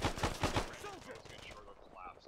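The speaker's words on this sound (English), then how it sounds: "Good shot. I shot him." Gunfire from the ArmA 3 video game, a few loud close shots in the first half, followed by quieter action with voices talking over it.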